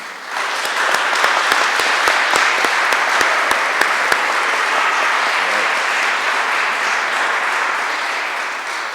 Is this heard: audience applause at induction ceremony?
yes